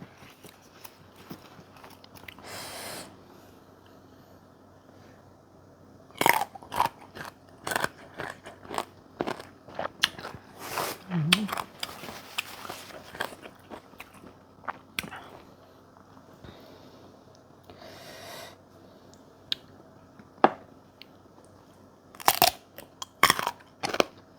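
Crunchy unripe Phimsen mango bitten and chewed up close, with a series of sharp, loud crisp crunches in irregular bursts separated by quieter chewing, and no talking.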